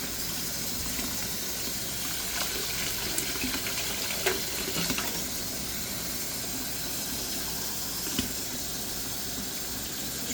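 Lukewarm tap water runs steadily from a faucet to fill a jar of tomato seeds, a continuous even hiss with a few faint clinks throughout.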